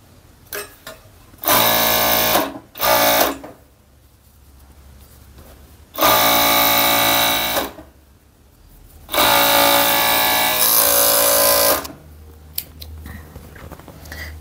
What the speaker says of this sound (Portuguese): agora eu vou posicionar a peça novamente a barra e vou costurar a parte da frente